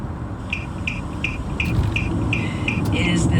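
A car's hazard lights tick in a steady, evenly spaced series of sharp clicks during rain, up close over a bed of rushing road and rain noise.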